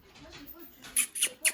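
Dogs making noise indoors: three short, sharp, high-pitched yips or squeaks in quick succession, fairly close, over a quiet room with no talking.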